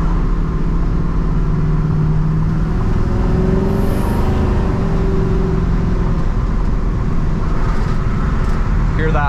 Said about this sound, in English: Hear that Holley Sniper fuel injection whistling under the hood when you crack the throttle.